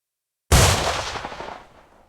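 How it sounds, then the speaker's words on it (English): One loud gunshot sound effect played during a Deadlands tabletop role-playing session: a sharp sudden blast followed by a rumbling tail that fades over about a second and a half, with no talking. "So you hear this gunshot"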